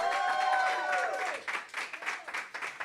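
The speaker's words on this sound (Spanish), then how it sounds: "Dale un aplauso fuerte." Church congregation applauding and cheering during a Spanish-language sermon, steady clapping with voices and shouts mixed in, fairly loud and close.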